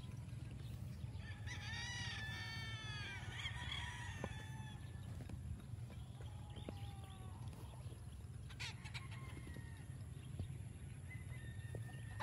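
Gamecock chickens on a farm call with repeated crowing and clucking, heard clearly over a steady low hum, with occasional brief bird calls scattered throughout.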